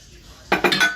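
A metal utensil clinks against a pot while stirring a roast's sauce on the stove, three quick close scrapes and taps after a moment of quiet.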